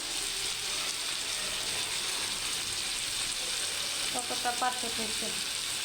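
Pangas fish cooking with spiny gourd and pointed gourd gives a continuous close frying hiss, with a short run of clicking scrapes near the end.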